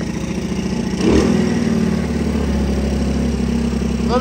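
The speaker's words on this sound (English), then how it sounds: "it's running pretty good. I don't think it needs more idle" A 1985 Honda ATC 110 three-wheeler engine idling up close, a steady loud putter with a brief bump in revs early on, running alone without talk.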